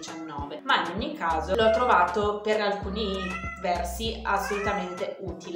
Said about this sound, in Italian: Se sentite miagolare